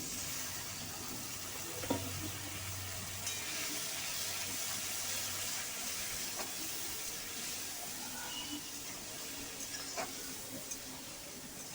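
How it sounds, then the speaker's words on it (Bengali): Ground turmeric, chilli, cumin and coriander sizzle with a splash of water in a pan after frying ginger, giving a steady, moderate hiss with occasional soft stirring clinks and no talking. "এখন দিয়ে দেব গুঁড়ো মশলাগুলো, হলুদ, লঙ্কা, জিরে, ধনে, দিয়ে অল্প জল দিয়ে ভালোভাবে কষাতে থাকবো।"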